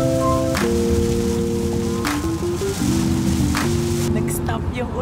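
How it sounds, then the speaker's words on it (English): Heavy rain pours steadily and loudly, a dense close wash of sound under a backdrop of sustained musical tones, with no break for the full stretch. "Oh my gosh, ang lakas ng ulan!"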